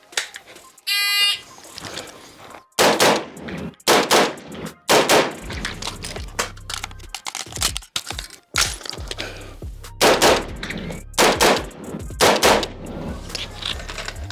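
An electronic timer beep, then a shooter on a pistol course of fire sends strings of loud, close, sharp gunshots with short pauses between bursts, ringing with a metallic crack.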